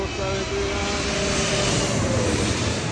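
An Eva Air Boeing 777-300 airliner passes overhead with a steady, loud engine roar and faint tonal whine that holds evenly for a few seconds, with no one talking over it.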